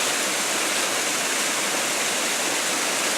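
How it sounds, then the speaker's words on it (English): Rouse Falls, a waterfall with only a little water running over it, gives a steady, broadband rushing wash that stays even and close throughout, with no voices. "Now, that's a pretty fall. It may not have a lot of water running over it"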